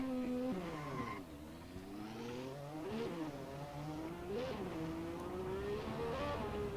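Racing car engine at Goodwood in a racing video game, a loud sustained roar with rising and falling pitch as it revs through gears, continuous and close with no talk.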